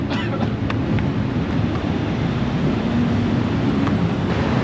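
A train rumbles steadily past on an elevated track in Bangkok with a deep, resonant roar and hiss, loud and continuous, echoing off the raised structure.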